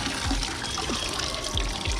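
A motorcycle riding jacket (Rynox Air Evo GT) soaking in water, with close sloshing, trickling and soft bubbling splashes.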